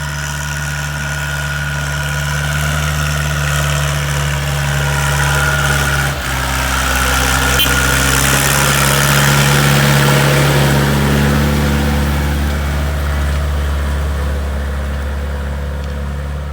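A Dongfeng tractor engine runs steadily in a field, with a loud, continuous low diesel drone and a strong hum that hold for the whole stretch, a brief dip midway, and no talking.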